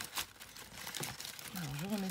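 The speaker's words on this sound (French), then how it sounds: "Alors, je remets ça dans l'enveloppe." Soft paper crinkling as a sheet is slipped back into an envelope, faint and close, with someone speaking French over it.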